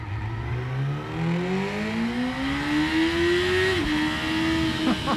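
A 2018 Yamaha R6 sport bike engine climbs steadily in pitch as it revs up through the gears, then briefly dips and settles into a sustained high whine, loud and close with wind rushing underneath.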